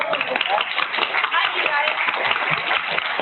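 A crowd applauds with dense, steady clapping throughout, fairly loud and close.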